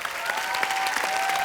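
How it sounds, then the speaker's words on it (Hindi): Dense, steady applause from a studio audience for performers on a Hindi comedy show, continuous and close with a faint tonal hum running underneath. "हमारे साथी कलाकारों के लिए जोरदार तालियां"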